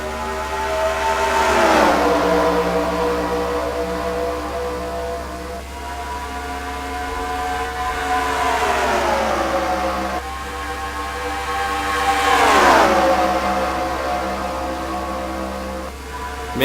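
Race cars in a NASCAR-style racing video game accelerate at the green flag start at Piggz Stadium, with engine tones rising and falling in long sweeping pitch bends as cars pass, loud and continuous across the whole span.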